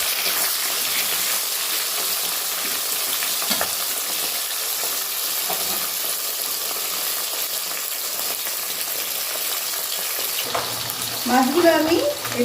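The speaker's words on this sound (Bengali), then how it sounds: "কড়াইয়ে তেল গরম করে নিলাম, এবারে একে একে মাছটা ছেড়ে দিচ্ছি।" Fish pieces sizzle in hot oil in a wok, a steady close crackling hiss throughout, with a brief voice and kitchen movement near the end.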